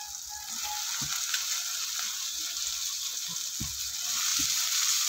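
Bitter gourd pieces are tossed into a hot pan and fry with a steady, quiet hiss, broken by a few soft clicks and knocks of stirring.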